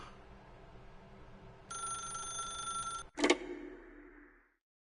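A telephone rings in a video game: a steady electronic ring sets in, holds for about a second and a half, then stops, followed by a loud clunk as if the receiver is picked up, with faint room tone fading to silence.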